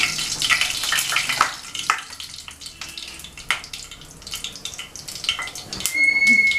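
Onions added to hot oil with tempered black cumin for a Bengali pabda fish curry, crackling and sizzling at close range in uneven bursts with clinking utensils and little talk.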